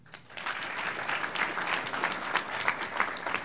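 Crowd at a MAD Canada event applauds, many hands clapping together in a steady, full-room burst that swells in after a quiet start.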